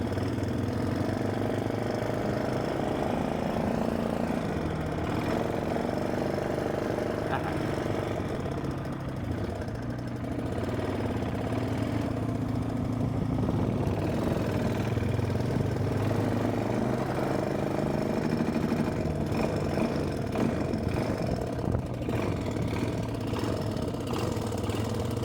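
Yamaha XT350 motorcycle engine running close by, a continuous dense low rumble with an uneven, sputtering beat that holds steady throughout, no voices.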